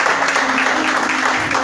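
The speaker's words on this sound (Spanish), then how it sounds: "¿qué les parece si le damos un fuerte aplauso?" A church congregation breaks into loud, sustained applause for a first-time visitor, a busy crowd of clapping hands filling the short stretch.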